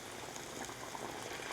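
Water bubbles and sizzles in a pot of cooking lapsi, a faint, steady hiss of boiling liquid with no voices.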